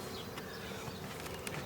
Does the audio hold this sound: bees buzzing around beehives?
yes